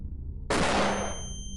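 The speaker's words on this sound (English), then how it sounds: "Alright, flashbang time." Flashbang grenade detonating in the video game X-Com Files: a single sharp, loud burst that decays quickly, leaving a ringing tone trailing behind.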